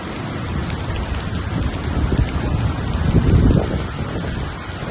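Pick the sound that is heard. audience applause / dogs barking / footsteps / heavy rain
heavy rain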